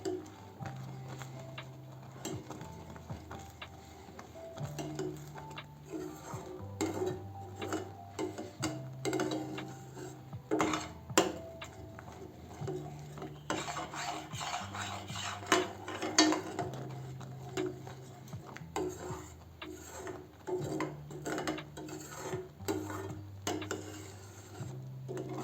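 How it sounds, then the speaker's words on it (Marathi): Milk and sugar being stirred in a pan over low gas for rabdi, faint soft scraping and ticking strokes repeating in an uneven rhythm against a quiet background hum. "असं छान हलवून घेऊ।"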